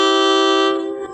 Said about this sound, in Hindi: हॉर्न कब से ड्राइवर दे रहे।